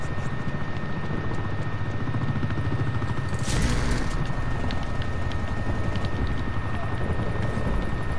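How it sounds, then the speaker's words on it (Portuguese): An attack helicopter in the shooter game Call of Duty Black Ops Cold War, a steady loud rotor thump throughout, mixed with brief bursts of gunfire and other in-game noise. "Helicóptero de ataque aqui."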